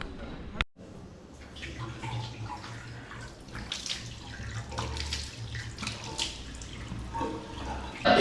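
Water splashes and runs steadily from a tap, with hands scooping and splashing close by, continuous for several seconds.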